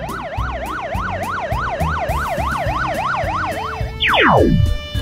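A police siren wails in fast rising-and-falling cycles over a steady musical beat, ending in a quick downward swoop.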